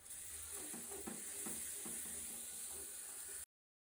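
Meatballs and curry masala sizzle steadily in a pan, a continuous bright frying hiss with faint stirring scrapes, close and alone.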